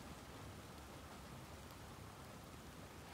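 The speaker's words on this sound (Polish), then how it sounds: "Raining" Rain falling in a garden, a faint, even hiss of drops that stays constant throughout, with no voices.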